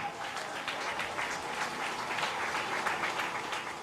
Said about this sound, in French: acclamons-le encore